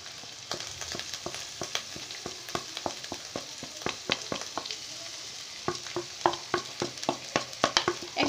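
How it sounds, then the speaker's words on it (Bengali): Onion sautéed with cumin paste, garlic paste, turmeric and salt sizzles softly in a pan. Quick, repeated scraping strokes of a spatula run close by and get livelier toward the end, with no voices. "এরপর এটা খুব ভালোভাবে কষিয়ে নেব"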